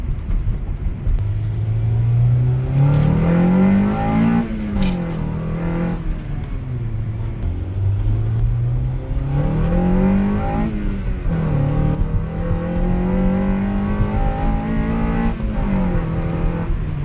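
A Chevstang with a TCI Turbo 400 transmission accelerates hard, its engine note climbing then dropping at each gear change with a slight slurred slip between gears, loud and close inside the car.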